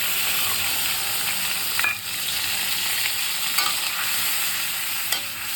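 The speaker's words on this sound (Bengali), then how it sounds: "ভালো করে কষিয়ে নেব।" A ginger, garlic, onion and tomato masala paste fries in a pan for a jackfruit curry, sizzling steadily and close with intermittent scraping stirs, and no voices.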